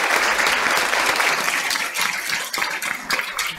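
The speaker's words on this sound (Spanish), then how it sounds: "Un aplauso para todos y todas." Applause from the audience at a talk by Hebe de Bonafini, with loud continuous clapping that breaks into more scattered claps toward the end.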